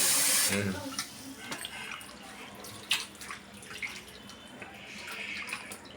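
Tap water runs over raw chicken thigh pieces being washed by hand with salt and turmeric, a steady splashing flow with small drips and occasional louder splashes, close by and without speech.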